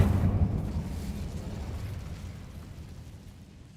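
An Incendio fire spell bursts in Hogwarts Legacy: one loud, low whooshing eruption that hits hard at the start and then fades away into a rumble.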